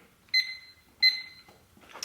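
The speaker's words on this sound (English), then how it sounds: "Let me make sure I get my timer set right" A workout interval timer gives two clear, high electronic beeps about three-quarters of a second apart, fairly quiet, followed by a soft rustle.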